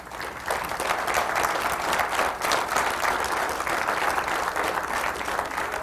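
A lecture-hall audience gives a sustained round of applause, dense steady clapping from many hands holding at full strength for several seconds without pause.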